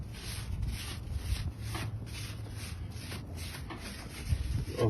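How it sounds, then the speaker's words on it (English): Gas grill grates being rubbed clean with olive oil, a repeated scraping and rubbing in uneven strokes, fairly close, with no talk. "we're going to clean these grates with some olive oil"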